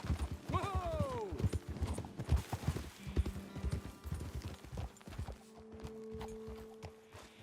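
Horses in Red Dead Redemption 2 clip-clop along at a walk, hooves thudding in an uneven rhythm with a brief whinny early on, over a low rumbling ambience.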